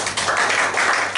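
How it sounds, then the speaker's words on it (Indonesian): A short burst of church congregation clapping, steady and dense throughout, many hands applauding at once with no voices standing out. "Yang setuju tepuk tangan begitu."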